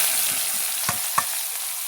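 Chopped onions fry in oil with whole spices such as bay leaf and cardamom, giving a loud, dense, steady sizzle close by, with two soft stirring knocks partway through.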